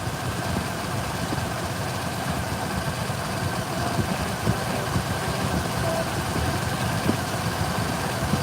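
A 2007 Ford Explorer with a 4.0L engine idles with a misfire, giving a steady low rumble with slight uneven pulsing. It sounds close and continuous, with no talk over it.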